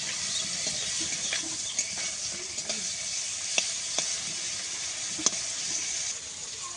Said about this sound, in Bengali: কাঁকড়া মাছ লাল লাল করে ভেজে নিচ্ছি।